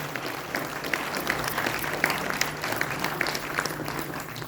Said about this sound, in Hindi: जोरदार तालियों से अभिनंदन करें।